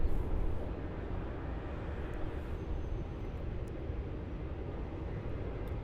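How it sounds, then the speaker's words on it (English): A Virgin Australia airliner takes off down runway 34 at Melbourne Airport, heard from a distance as a steady, broad jet roar and rumble, fairly faint and unbroken, with no talking. "Looks like we have a Virgin taking off over there from taxiway Kilo, riding all the way down runway 34 there."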